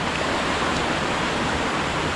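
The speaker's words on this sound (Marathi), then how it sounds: "इकडं पाणी अडवलेलं आहे आणि हे इकडून असं पाणी शेताकडे चाललं आहे." Water rushes steadily through an irrigation channel into a paddy field in the Konkan, a dense, even gurgling flow heard up close with no talking.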